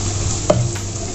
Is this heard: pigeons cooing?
no